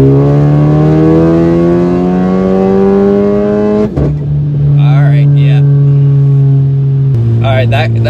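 A VW MK6 GLI accelerates hard, its engine note climbing steadily in pitch, dropping at a gear change about midway, then climbing again before another shift, heard loud from inside the car with a few brief bits of voice.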